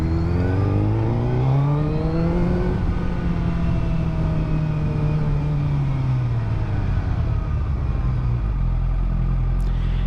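A 2023 Suzuki Hayabusa with a flashed ECU revs up and pulls away on a test ride, its engine note climbing, holding steady, then dropping as it shifts, loud and close throughout.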